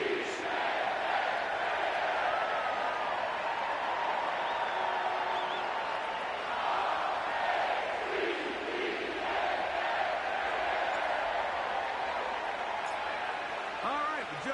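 A packed M&T Bank Stadium crowd in the Madden football game roars in a continuous, steady wash of cheering and noise, with a voice talking over it.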